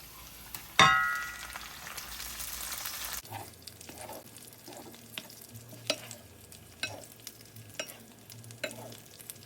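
Salmon fries in a honey butter glaze in a pan. A loud clang opens a close sizzle, followed by a run of regular scraping strokes as the fish is stirred and coated.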